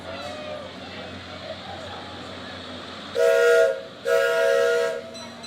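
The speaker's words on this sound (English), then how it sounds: "Driving the train is my father, Larry Drews." A small ride-on parade train at a Fourth of July parade in Ralston rolls past amid crowd noise, sounding two loud, close horn or whistle blasts in quick succession over a steady background rumble.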